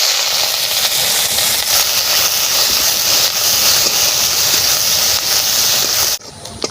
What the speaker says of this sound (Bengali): দুটো শুকনো লঙ্কা আর পেঁয়াজটা ভেজে নিচ্ছি